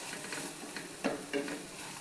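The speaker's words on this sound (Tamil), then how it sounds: "அதனால் வெண்டைக்காவை நல்லா வறுத்துக்கோங்க." Okra fries in a pan, making a soft, steady sizzle broken by a couple of brief scraping clinks from stirring.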